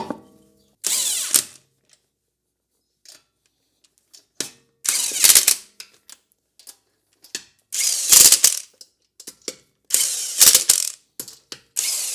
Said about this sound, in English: we're going to torque the lug nuts to